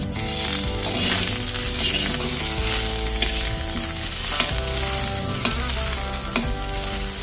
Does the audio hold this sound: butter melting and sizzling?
yes